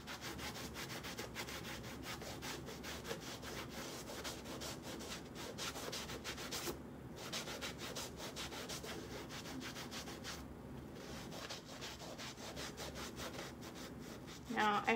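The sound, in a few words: rubbing a dirty shoe with a damp cloth and cleaning paste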